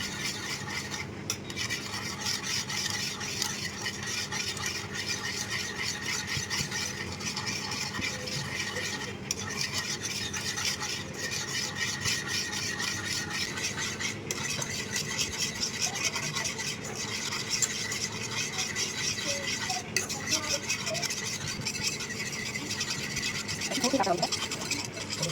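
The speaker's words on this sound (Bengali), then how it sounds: "এবার আমি এই জিনিসটাকে দিয়ে নাড়বো" A utensil stirs boiled pasta with salt in a pan, making a steady, close scraping and rubbing sound that continues without a break for the whole stretch.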